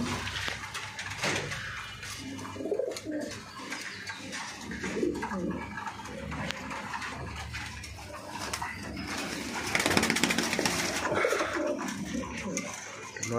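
A male pigeon coos repeatedly at close range in a busy setting where pigeons are kept for sale, its low throaty calls rolling on over faint clatter and other bird sounds.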